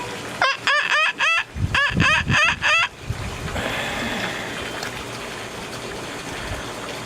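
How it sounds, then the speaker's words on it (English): Vultures calling near the listener: a series of loud, rhythmic harsh calls in quick bursts over the first three seconds, then a steady outdoor wash of background noise with no further calls. "It's vultures."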